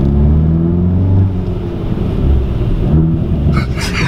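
A Hyundai i30 N Performance with the exhaust valve opened rumbles deeply at close range, a loud steady drone that swells briefly around the three-second mark, with wind buffeting the microphone.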